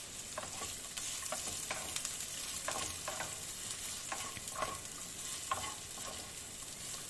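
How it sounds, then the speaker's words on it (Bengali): Pieces of pointed gourd (potol) fry in a pan, giving a constant hissing sizzle with regular scraping strokes as the spatula turns them, no voices. "প্রথমে আমি পটলগুলো একটু ভালো করে ভেজে নেব।"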